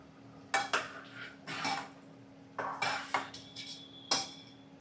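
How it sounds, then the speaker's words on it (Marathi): Metal clanks and scrapes as a lid is fitted onto a pressure cooker holding prawn biryani, several sharp bursts close by over a quiet kitchen background. "तर कुकरला आपण आता झाकण लावलेलं आहे."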